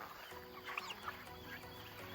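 Turkeys and chickens kept together in a coop give a few soft, brief clucks and calls, faint and scattered over a quiet background hum, with no talking.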